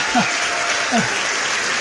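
Canned applause sound effect on a church lecture broadcast, a steady wash of many hands clapping for a short stretch, with faint voices underneath.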